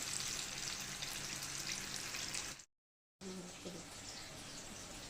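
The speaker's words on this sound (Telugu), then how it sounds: "బజ్జీలను కట్ చేసి ఇలా కట్ చేసుకొని ఇలా మళ్ళీ నూనెలో వేయించుకుంటున్నాము" Cut mirchi bajji, chili fritters sliced and fried a second time, sizzle steadily in hot oil with a dense, continuous crackle that briefly drops out and then resumes.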